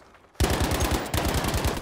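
Rapid automatic gunfire in the video game Battlefield V, a loud sustained burst of closely spaced shots starting abruptly after a brief quiet moment.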